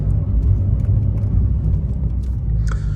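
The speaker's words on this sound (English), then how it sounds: "for a base model, you can definitely hear the turbos" Base-model Porsche 911 with a turbocharged engine, heard as a steady, loud low rumble from inside the car, with a faint turbo whir over the engine drone and no talking.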